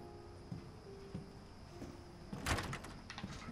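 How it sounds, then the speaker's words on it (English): Doors creaking open in the horror video game Resident Evil Village, a few soft knocks followed by a brighter burst of wooden rattling midway over a low, murky ambient bed. "Why are these doors open by itself?"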